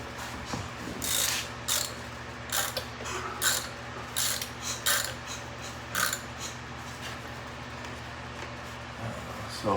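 A hand ratchet clicks in quick short bursts while tightening the rotor nut on a 1972 Norton Commando, crisp close pawl clicks in uneven groups over a quiet workshop background with a low steady hum.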